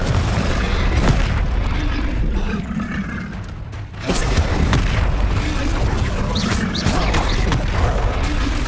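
Confringo blast spells explode repeatedly during Hogwarts Legacy video game combat, dense loud booms and crashes layered over constant battle noise with voices casting spells throughout.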